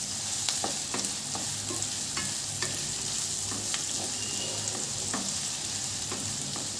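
About ten cashews and a small bay leaf sizzle steadily in hot oil for a Dhaba-style soya chunk curry, a constant close frying hiss broken by faint scattered clicks of stirring.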